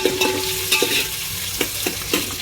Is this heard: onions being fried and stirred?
yes